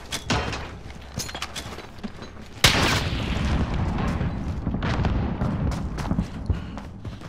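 A grenade goes off in a Search & Destroy round of a shooter game: a few light clicks, then a sudden loud blast about a third of the way in, trailing into a sustained rumble.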